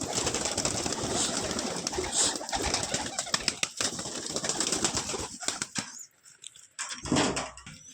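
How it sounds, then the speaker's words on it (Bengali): Domestic pigeons are released, and loud bursts of wing flapping mix with soft cooing. The flapping fades near the end, then one more brief flurry follows. "তো চলো বেশি লেট না করে আগে পায়রাগুলো ছেড়ে দিই।"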